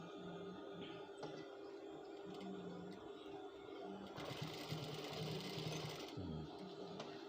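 A sewing machine stitching a welt pocket on men's trousers: faint, rapid mechanical whirring in short runs with pauses, then a longer steady burst of stitching, close and alone.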